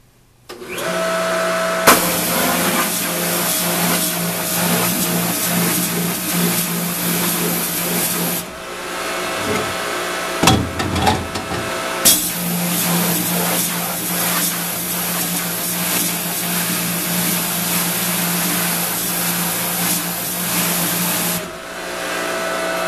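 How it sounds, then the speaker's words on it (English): A water spray nozzle hisses loudly and continuously while rinsing off a print during cleanup, stopping briefly for a couple of seconds midway before resuming and cutting off near the end. "spray it off one more time."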